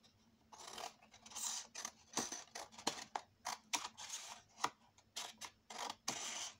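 Scissors trim off excess material in a long run of rough, close snips and scraping cuts. The cuts come in an uneven rhythm over a faint background hum, with no talking.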